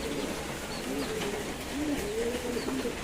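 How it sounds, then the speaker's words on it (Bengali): A white dove coos softly in a loft on a rainy day, a few low, rolling calls close by over a steady hiss of background noise. "এই যে সাদা ঘুঘুটা এখানে।"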